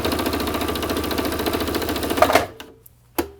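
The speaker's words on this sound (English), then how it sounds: "And now we can sew. This is 2 layers of leather." A Singer Quantum Stylist 9960 sewing machine stitches through two layers of leather with a fast, steady mechanical chatter that stops abruptly, followed by a brief clunk.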